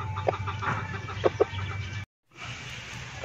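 Chickens cluck softly in short bursts while being fed fresh malunggay leaves, against a low background hum, with a brief dropout near the end.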